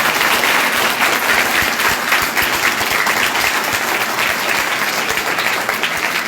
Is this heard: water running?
no